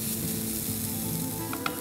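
Sugar and grated coconut sauté in a pan over low heat for a modak filling, giving a steady, dense sizzle throughout with a few faint clicks near the end.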